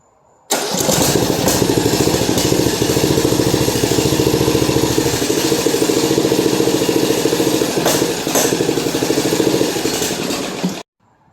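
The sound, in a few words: lawn mower engine running after a year of sitting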